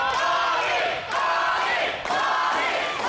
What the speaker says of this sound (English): And this crowd in Niles, Ohio has come alive.